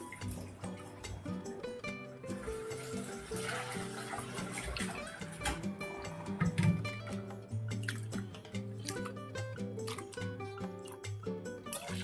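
Water splashing and dripping as urad dal is rinsed in a bowl, with clinking and swishing over a steady background of music.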